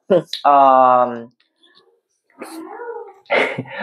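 A cat meows loudly up close, a long drawn-out cry followed by two shorter, rougher meows after a brief pause.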